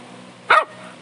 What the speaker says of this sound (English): Oh, a dog, okay.